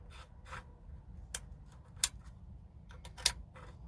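Small sharp clicks and light rubbing of metal parts as an AK74 airsoft barrel part is turned and clicks into its slots, a few quiet close ticks with two crisper clicks among soft handling noise.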